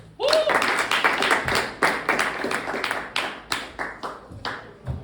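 Audience at a comedy show claps and cheers as a comic is welcomed to the stage, a loud burst of clapping with scattered whoops that fades in uneven waves over several seconds.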